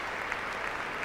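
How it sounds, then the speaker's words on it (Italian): Dense, steady applause from an opera audience after a performance of Verdi's Otello, a continuous wash of many hands clapping at close range. "Sono applausi per un Otello come non si vedeva da parecchi anni"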